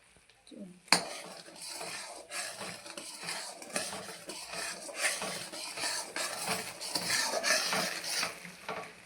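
A spoon steadily stirs and scrapes through sugar syrup cooking in a pot for adadiya pak, a rhythmic close metallic scraping and swishing that continues throughout with a soft bubbling hiss underneath.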